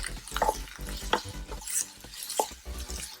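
Onions and green chilies sautéing in a pot for potato kurma, with a spatula stirring in repeated scraping strokes over a steady close sizzle.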